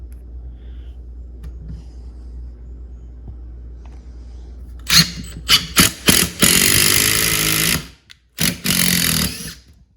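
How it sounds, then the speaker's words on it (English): Power drill with a PH2 flex bit drives drywall screws after a quiet stretch, its whirring motor starting and stopping in several short bursts before one longer steady run and a final spurt. "just gonna use just a few basic drywall screws to test these out quick"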